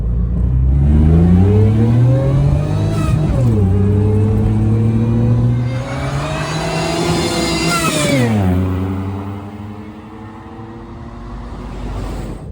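A supercharged Citroën C1 small petrol engine revs hard on a rolling road dyno, climbing in pitch, dropping back, then surging through a second long pull before easing off, loud and close with no talk.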